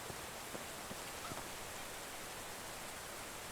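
Steady rain falls in the medieval survival game Medieval Dynasty, a soft, even hiss of drops with a few faint patters, quiet and continuous with no voices.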